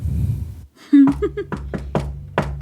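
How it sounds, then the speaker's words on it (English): A brief voice is followed by four loud, evenly spaced knocks on a door at a hosted event, each a sharp close thud with a short ring after it. "I think you have to knock."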